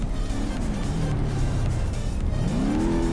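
Engine of a car in BeamNG.drive revving up as it accelerates, a rising engine note climbing steadily over about three seconds, loud and continuous, with no talk.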